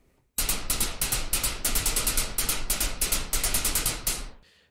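A burst of synthesized noise percussion shaped by a low-pass filter envelope hits in a fast rhythmic pattern, each bright hiss snapping on and closing quickly with a slight ping, playing steadily for about four seconds before stopping.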